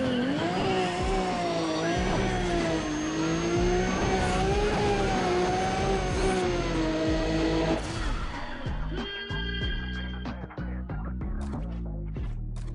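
A Toyota Supra races in Need for Speed ProStreet, its engine droning and rising through gears, then giving way to clattering impacts and skids near the end, while a faint voice talks over it.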